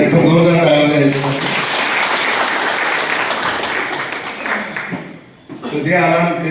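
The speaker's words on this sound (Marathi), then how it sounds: "एक जोरदार टाळ्या द्यायचा" Loud, sustained applause from the audience at a Sainik Shetkari Foundation event in Satara fills most of the stretch, with speech over a PA before and after it.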